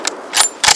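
Rifle action worked by hand during a hunt: a short series of crisp metallic clicks and clacks, close and isolated, with no talking.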